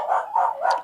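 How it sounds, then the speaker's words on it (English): A dog barking three times in quick succession, close by and moderately loud, with short muffled woofs and no other sound. "Who you barking at?"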